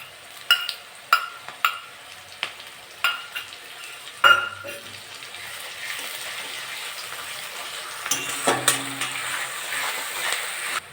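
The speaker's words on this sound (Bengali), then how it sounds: "পেঁয়াজটা একটু ভাজা ভাজা হয়ে গেছে আমি এবার কাঁচা লঙ্কা বাটা দিয়ে দেবো" Green chili paste going into browned onions for a chicken and potato curry: a series of sharp spoon taps on the pan, then a rising sizzle with scraping stirs close by.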